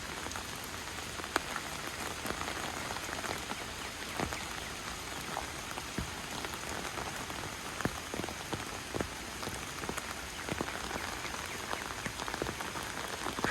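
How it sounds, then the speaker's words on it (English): Steady rain falls outdoors on a wet day, a dense even hiss of drops with scattered sharper drips close by, continuing unbroken and without voices. "it hasn't really stopped raining"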